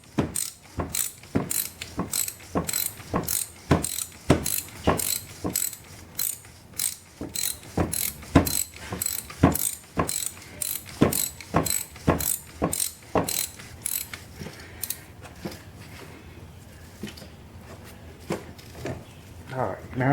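A hand ratchet tightens an alternator bolt on a 2013 Kia Rio with a long run of quick, crisp clicks in a steady rhythm, close and moderately loud, then slows and fades toward the end.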